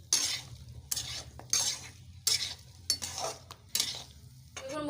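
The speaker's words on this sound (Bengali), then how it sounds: "ভালো করে নেড়ে কষিয়ে নিতে হবে মশলার সাথে।" A spatula scrapes and stirs vegetables frying with spices in a hot pan for a Bengali pumpkin, bori lentil dumpling and potato chochchori with dried fish, in repeated loud, close bursts over a steady sizzle.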